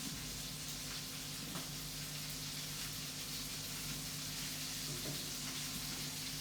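Butter sizzles steadily in a pan while being basted as it turns noisette, a continuous, even frying hiss with faint stirring clinks throughout.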